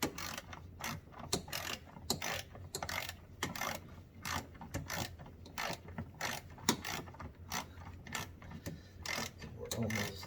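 Hand ratchet wrench tightening brake booster bolts on a Ford Escape, a steady series of quick, close clicking pawl strokes repeating in short bursts throughout.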